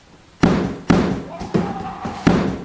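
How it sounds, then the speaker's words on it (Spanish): Loud pounding on a door as a horror story sound effect: four heavy booming thuds at uneven intervals, close and echoing, with a faint tone lingering between them. "Un golpe más fuerte se escuchó en la puerta principal"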